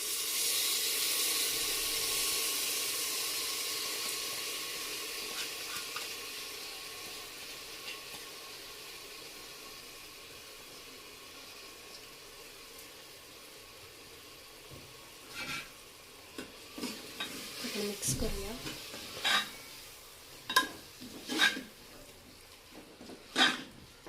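Washed moong and toor dal are tipped into frying masala, a loud sizzle at first that fades to a soft frying hiss, followed by scattered stirring scrapes and clinks near the end.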